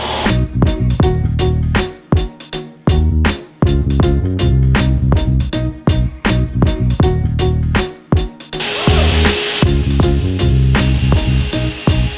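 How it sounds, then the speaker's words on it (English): A power sander whines loudly and close by, starting and stopping in short bursts, its pitch shifting as it works along the edge of CNC-cut material in a school bus conversion. "currently sanding down all the edges"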